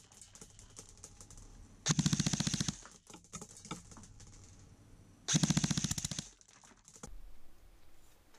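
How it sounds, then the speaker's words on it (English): Krytac Barrett Rec7 SBR AEG airsoft rifle firing two loud, rapid full-auto bursts of about a second each at roughly fifteen rounds per second, separated by quieter mechanical clicks and handling noise. "I'm getting a rate of fire of 15 rounds per second, or about 900 rounds per minute"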